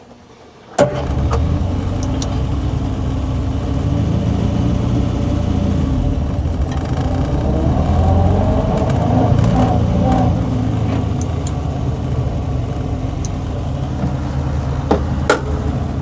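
A Sprite car's engine starts up and runs steadily on a drive, loud and close with a continuous low rumble, swelling slightly partway through as if revved, with a few faint clicks near the end.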